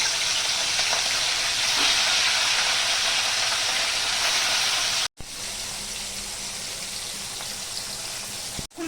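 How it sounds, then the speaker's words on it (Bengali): Katla fish fries in hot salted oil in a pan, giving a steady, loud, dense sizzle that runs on continuously with a brief break partway through. "মাছটা ভেজে নেব।"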